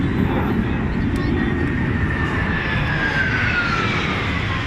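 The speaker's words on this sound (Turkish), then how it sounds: "Bir savaş uçağı, bir yolcu uçağı karışık" A fighter jet and a passenger plane rumble overhead above the Champs-Élysées in Paris with a slowly shifting whine, mixed with street noise and faint voices in the background.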